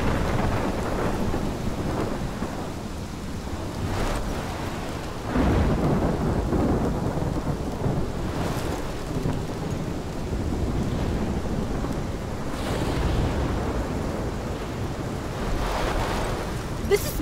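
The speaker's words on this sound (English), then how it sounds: "My storm!" A violent thunderstorm in Life is Strange roars with heavy rain and wind, broken by several deep thunder rumbles and crashes rising and fading over a constant loud wash of noise.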